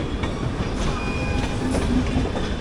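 The Kakinada Port–Sainagar Shirdi Express rolls into Secunderabad station, whose rebuilding is underway, with a loud continuous rumble of railcars, rhythmic wheel clicks on the rails and faint squeals, and no voices.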